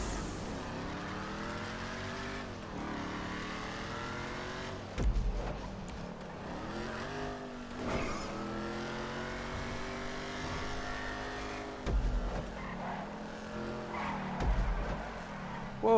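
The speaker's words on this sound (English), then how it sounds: "Whoa, these curves. See, the brakes on this car suck." A car races around curves in a PS4 racing game with weak brakes, the engine whining up and down in pitch through repeated gear shifts and bursts of tire skidding, loud and close throughout.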